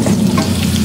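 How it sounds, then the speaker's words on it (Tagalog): Onion fries in a pan for a Bicol Express dish, a loud, close, continuous sizzle with a low bubbling hiss and no talk over it. "Lutuin muna natin ang ating sibuyas mga kababsi."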